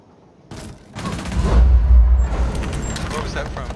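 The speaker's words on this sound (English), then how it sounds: "Grenade from the window, I guess." A grenade explosion in Rainbow Six Siege, a heavy booming blast with a deep low rumble that swells and lingers, mixed with gunfire crackle and brief in-game voices.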